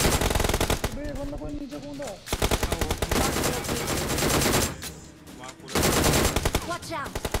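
Rapid bursts of DP light machine gun fire crackle in a BGMI battle royale match, sharp repeated shots in several long strings with brief pauses, with other game sounds mixed in.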